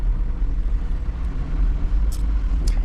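A car drives up the Long Point fault line, where the ground is subsiding, with a loud, continuous low road rumble inside the cab and a couple of brief high hisses near the end.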